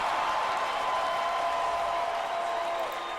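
A stadium crowd at an American football game in Cleveland roars in sustained, loud cheering, a broad wash of noise that holds steady for the whole stretch before easing slightly at the end.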